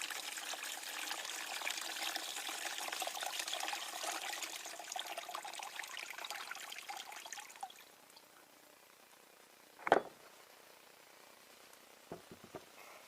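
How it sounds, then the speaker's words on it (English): Acid pours out of a tipped car battery in a steady trickling stream that gradually thins and stops, followed by a single sharp knock and a couple of faint clicks in near silence. "Very carefully lift it up, hold it away, and pour the acid out."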